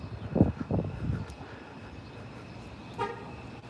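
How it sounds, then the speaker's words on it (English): A car horn honks on a street while a person walks behind the vehicle, one short toot near the end over low traffic rumble, following a few dull thumps at the start. "She's honking the horn as I walk behind her"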